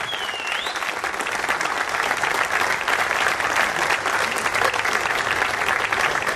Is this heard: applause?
yes